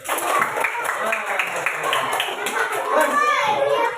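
A classroom of young children claps for two classmates, a busy, steady patter of small hands mixed with chattering kids' voices throughout.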